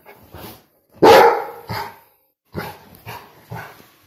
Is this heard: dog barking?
yes